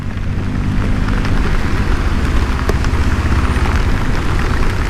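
Steady rain during a ride on a Honda CBR500R motorcycle through traffic: a constant broadband hiss and rumble of rain, engine and road noise, loud and unbroken, with no talk.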